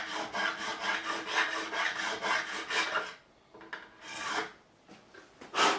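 A 3mm fret file rasps in rapid repeated strokes across the frets of a Squier Affinity Strat neck, close and steady, then a few slower separate strokes after a short pause.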